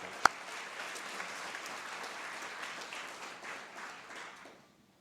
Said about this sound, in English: So just one moment to give a kind of a round of applause for this